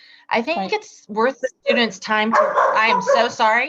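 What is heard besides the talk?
dog barking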